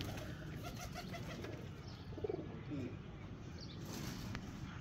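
Pigeons coo on a rooftop in Sialkot, soft repeated calls set against a steady, noisy outdoor background with a couple of brief flutters.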